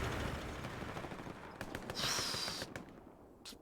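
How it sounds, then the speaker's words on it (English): Machine gun fire in the World War II shooter Hell Let Loose, heard as faint, distant bursts of rapid shots over a steady battlefield rumble, peaking midway and then trailing off. "They're clearing out the front with the MG"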